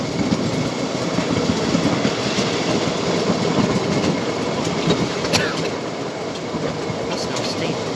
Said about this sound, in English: Our first train ride this morning.